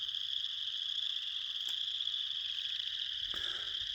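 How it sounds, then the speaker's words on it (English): Wood frogs call together in a continuous high chorus along a lakeside trail in Elk Island, heard from a distance with no talking. "So those are wood frogs."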